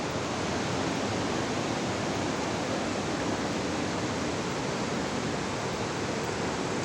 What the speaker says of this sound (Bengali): নিচে ঝর্ণার আওয়াজ শোনা যাচ্ছে